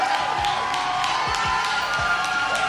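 A church congregation claps and cheers together, a continuous loud wash of applause with scattered shouts and whoops rising over it.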